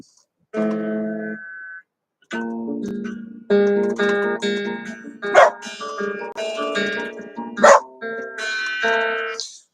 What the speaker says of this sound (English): Oh, dog again. The dog again. He won't stop.